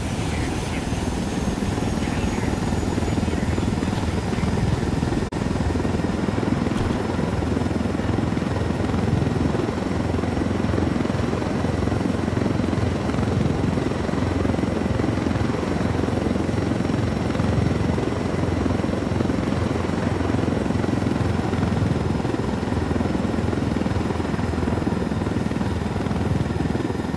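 A helicopter flies in Ghost Recon Wildlands, its rotor and engine drone loud and steady throughout, with voices talking faintly underneath.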